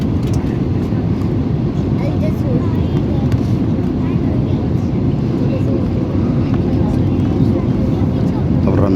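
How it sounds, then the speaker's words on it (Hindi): Steady, loud engine roar of an airplane descending to land at Delhi airport, a dense unbroken rumble that holds for the whole stretch with no voices. "अब लैंडिंग होने वाली दोस्तों।"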